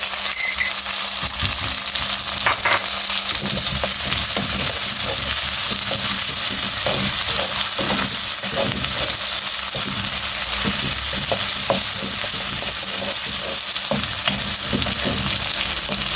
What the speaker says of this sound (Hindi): इसी के साथ हमने प्याज डाल देना। हम प्याज को कोई हमने ब्राउन नहीं करना, बस हल्का से नरम करेंगे।